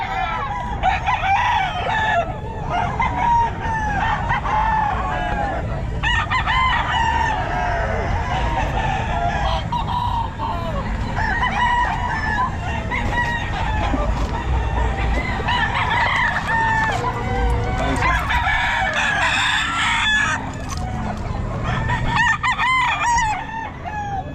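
Roosters crow repeatedly over clucking fowl and busy background noise at the Bocaue pet market, loud and continuous, with voices talking in the crowd.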